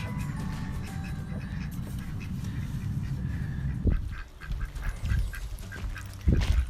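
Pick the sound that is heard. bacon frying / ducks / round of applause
ducks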